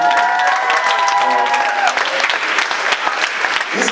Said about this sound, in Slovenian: dajmo malo zaploskati